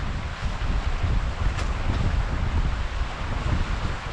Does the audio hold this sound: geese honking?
no